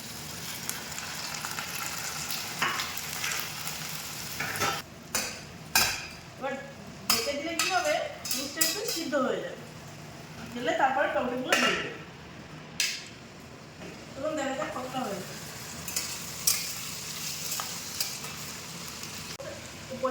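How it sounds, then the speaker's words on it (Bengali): Seeds lightly frying in a pan with tomato sizzle steadily up close, broken by frequent clinks and scrapes of a utensil against the pan, with a faint voice now and then. "বীজগুলো হালকা ভেজে নিয়ে"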